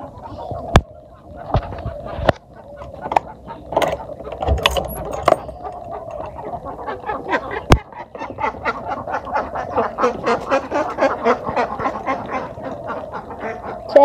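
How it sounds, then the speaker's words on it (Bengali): A flock of village ducks quacks and honks loudly and continuously as they are let out, with sharp clanks and rattles mixed in and some voices nearby. "তখন হাঁসগুলা ছেড়ে দিয়ে নেই"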